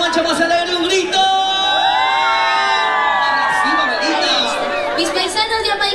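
A festival crowd at the Santiago Chucosino 2024 celebration shouts, whoops and cheers loudly in a sustained burst, voices overlapping near and far with high yells rising above the roar.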